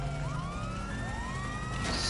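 A Los Santos police cruiser's siren in Grand Theft Auto V wails in repeated rising and falling sweeps, loud and close over steady engine rumble, the damaged car's siren going haywire.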